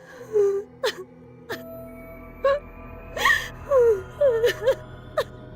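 Horror-story effect of a girl crying at the end of a dark corridor: halting sobs, sharp gasps and whimpering wails in irregular bursts, fairly close, over a low eerie drone.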